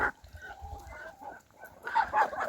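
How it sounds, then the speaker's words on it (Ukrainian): Chickens by a barn cluck in short, irregular calls, with a louder burst of clucking near the end and the soft scuffle of farmyard birds feeding close by. "Кури біля хліва їдять зі своєї сторони."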